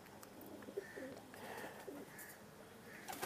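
Domestic pigeons kept by a pigeon fancier coo softly in repeated low, rolling calls, faint and somewhat distant against a quiet background.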